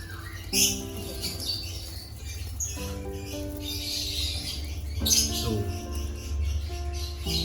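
Lovebirds at a breeding aviary holding about two thousand birds keep up a dense, steady chirping and twittering over a low hum, with a voice breaking in now and then.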